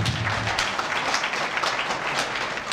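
An audience applauds at an integrity award ceremony, dense continuous clapping from a crowd at moderate distance, lasting throughout without talk.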